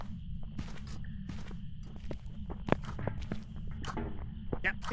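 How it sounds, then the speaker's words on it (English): Soft footsteps of a ghost moving through grass in the Phasmophobia video game, a faint run of muffled steps over a steady low background hum, with one sharper knock partway through. "I hear footsteps in the grass, so I think it's coming around that way."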